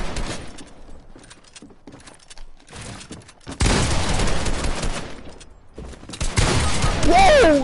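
Rapid bursts of Fortnite gunfire during a 2v2/3v3/4v4 box fight wager match, loud and dense in the second half after quieter stretches, with players talking over the shooting.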